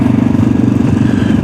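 A Yamaha XT660X motorcycle engine runs at steady mid revs during a test ride, a continuous low throbbing drone with a fine pulsing texture, close and loud with no talking.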